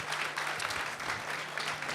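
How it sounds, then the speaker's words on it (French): An audience at a book fair panel on women scientists in science fiction claps in a continuous, even burst of applause, moderately loud and unbroken from start to finish. "Plein d'applaudissements pour cette très belle première table ronde."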